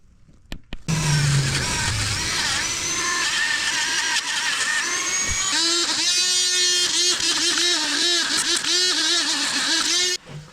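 Dremel rotary tool cleaning around the valve cover of an air-cooled Vanagon engine, a loud close high-pitched whine that starts abruptly, shifts pitch as it loads and unloads, and cuts off near the end.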